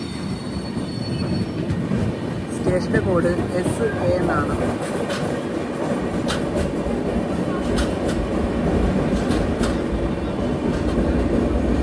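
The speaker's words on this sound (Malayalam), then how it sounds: "ട്രെയിൻ ഇപ്പോൾ സേലം ജംഗ്ഷനിലേക്ക് എത്തുകയാണ്." The Vivek Express, running Dibrugarh to Kanniyakumari, rolls into Salem Junction with a steady rumble, rhythmic wheel clatter and occasional squeals, while someone talks over it.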